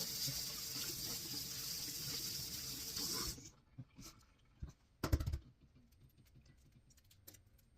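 Tap water runs steadily for about three seconds while something is rinsed down, then cuts off, leaving scattered clunks, taps and a brief louder knock.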